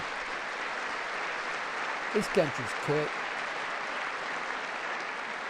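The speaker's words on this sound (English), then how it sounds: "Look, I just did it and they're clapping again." Steady applause from an audience fills the whole stretch, with a brief spoken remark cutting through partway.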